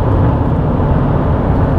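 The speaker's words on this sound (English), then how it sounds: "there is a bit of wind and road noise, but you'd expect that in this kind of car." Steady wind and road roar inside a 2014 Kia Sorento cruising at 60 mph, a loud, constant low-frequency rumble with no speech.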